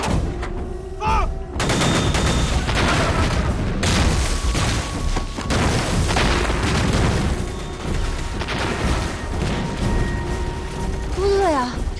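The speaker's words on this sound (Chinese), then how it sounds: "枪声怎么越来越密呀？" Dense gunfire and booming blasts fill a wartime battle scene in a Chinese anti-Japanese war drama, loud continuous shots with rumbling explosions, and voices heard shouting amid the din.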